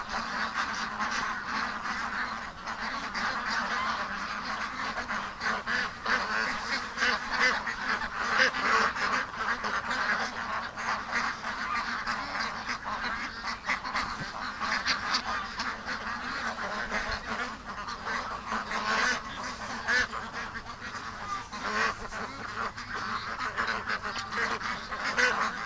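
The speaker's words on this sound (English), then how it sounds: "No, the wild duck's over there again." Ducks and geese call continuously around a farmyard where ducks are raised, a steady dense chorus of quacks and honks close by, with no talking.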